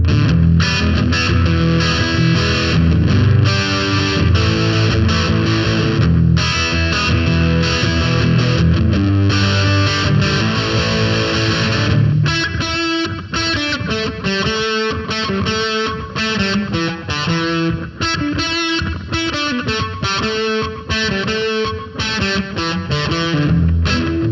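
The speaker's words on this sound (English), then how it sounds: "Then we've got reverb, and we've got that slap back delay. A little bit of fuzz, a little bit of overdrive." A loud, heavily distorted electric guitar riff plays on and on, fuzzy and saturated, with echoing repeats and a wash of reverb and no voices.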